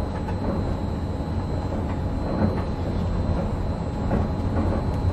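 Steady rumble and rolling hum of the Disneyland Monorail in motion, heard from the front seat on a full loop, with faint rhythmic clicks over a continuous low drone and no talk.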